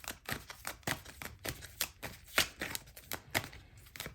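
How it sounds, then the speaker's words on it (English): Tarot cards shuffled by hand during a pick-a-card reading, a run of crisp papery riffles and slaps in an uneven rhythm, close and fairly quiet with no talking. "Why do I switch between 2 shuffling styles?"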